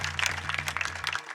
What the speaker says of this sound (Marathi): एकदा 165 नंबरासाठी जोरदार टाळी वाजवा.